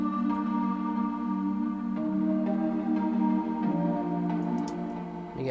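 The Evil Frog synth pad from Expand drones steadily while a lead synth melody plays over it in a beat, several stepped notes changing across the passage at a moderate, even level.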